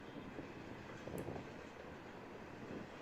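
Freight train hauling domestic and international shipping trailers rumbles past at a steady, continuous roar, with no pauses or distinct clanks standing out.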